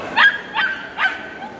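Three short, sharp yips from a small dog at a crowded Tokyo pet expo, evenly spaced about 0.4 seconds apart, close and fairly loud over a steady hum of hall chatter.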